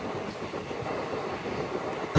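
Steady low rumble and rattle of the Chennai to Sainagar Shirdi express rolling along through forested country, heard from inside the carriage as a continuous moderate drone, with a sudden louder burst at the very end.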